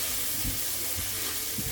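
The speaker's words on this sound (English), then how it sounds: "going to cook the onions for about 1 to 2 minutes" Diced onions sizzling in a hot pan for a steak dinner with creamy onion sauce, a steady close hiss with a few soft stirring knocks, no voices.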